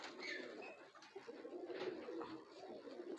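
A large-headed, big high-flyer pigeon coos steadily in low, throaty rolling phrases close by over a faint background hum, with no talking.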